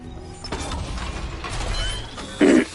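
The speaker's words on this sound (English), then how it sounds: "Just gotta move the tram." Mechanical clanking and ratcheting machinery grinds along steadily, with gear-like rattles and a sharper metallic burst near the end.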